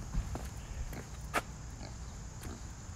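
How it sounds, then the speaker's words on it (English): Pigs in a pen on an orchard farm give a few soft, low grunts at moderate distance, with faint rustling and outdoor background noise. "Meanwhile, there are some pigs over here."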